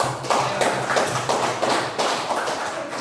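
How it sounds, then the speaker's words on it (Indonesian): A classroom group claps together for the red team in a quick, rhythmic pattern of sharp, close taps repeating steadily throughout. "Tepuk tangan untuk kelompok merah"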